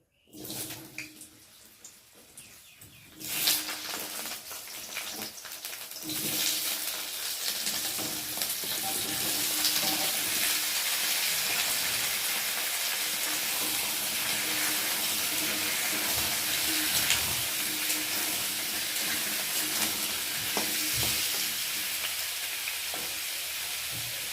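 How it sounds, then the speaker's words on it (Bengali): Potatoes frying in hot oil in a home kitchen pan, a steady broadband sizzle that builds after a few seconds and holds loud and continuous, with faint stirring clatter underneath and no talk. "এবার আলুগুলোকে ভালো করে তেলের মধ্যে ভেজে নেব"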